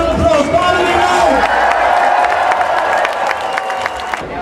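An outdoor crowd at a London march and rally for Gaza applauds and cheers for a student activist, a dense wash of clapping and whoops that stays fairly loud throughout before thinning out at the end.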